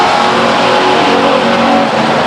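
Race cars roaring loudly around the Stockton 99 Speedway oval during a 1999 race, a continuous dense engine drone with no talk over it.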